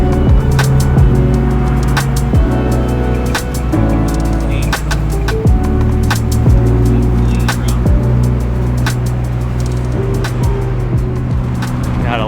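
A white BMW F80 M3 goes by amid loud, busy street and engine noise, with repeated sharp transients and other traffic mixed in; no clear single pass-by stands out.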